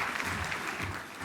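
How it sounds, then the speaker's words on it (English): A brief stretch of continuous crowd applause at a business leader awards event, a dense even wash of clapping with no voices breaking through. "Please welcome both of them with a thunderous round of applause."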